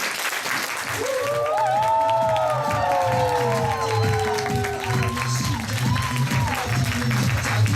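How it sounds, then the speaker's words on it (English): Big audience applause and cheering for Dean Nguyen at a gathering in Tysons Corner, Virginia; steady clapping under rising whoops and shouts, with a rhythmic low thumping beneath the crowd noise throughout. "help me to give him a big applause to Dean Nguyen"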